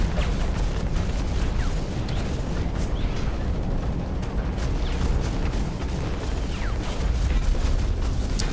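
Gunfire and explosions from battling mechs in the video game Hawken, a dense continuous roar of blasts and booming impacts with sharp cracks of shots scattered throughout, loud and sustained with no pauses.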